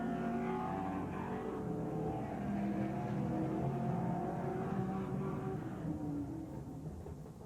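Late model stock cars race at Brighton Speedway in 1992, their engines droning and revving continuously in a dense, loud roar as the pack runs through the turns.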